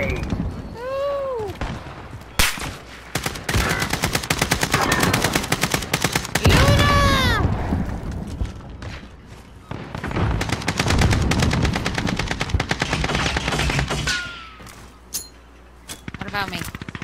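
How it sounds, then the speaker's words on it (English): Loud video-game gunfire hammers in long automatic bursts with brief pauses between them, and voices talk over the shooting. "I saw the bullets flying at you and I got scared"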